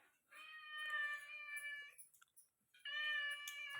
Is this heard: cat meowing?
yes